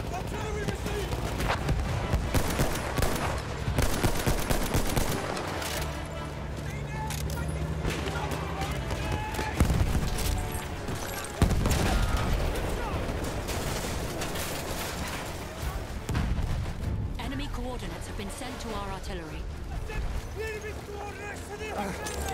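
Video game combat with artillery booms and gunfire rumbling through a busy mix of mechanical clatter and explosions, with voices talking over the barrage.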